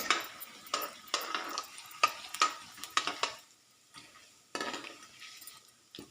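Cumin seeds fry in tempering oil for gongura pulihora, with a low sizzle under intermittent stirring scrapes and utensil clinks that come in short close bursts and quieter pauses. No one speaks.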